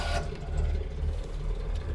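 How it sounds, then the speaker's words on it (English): A Citroen DS engine starts with a short burst, then settles into a steady, low rumbling idle close by, with no talk over it. "Start the engine"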